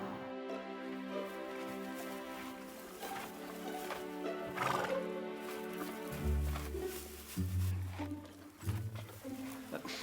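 A horse neighs and whinnies in long pulsing calls, close and fairly loud, followed by deeper snorting and a few hoof clops, with people talking faintly in the background.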